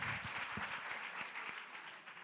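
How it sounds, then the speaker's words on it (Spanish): An audience applauds Octavia at an education innovation festival talk in Spain, a steady, fairly faint wash of many hands clapping that continues throughout the short stretch. "Venga, un aplauso para ella."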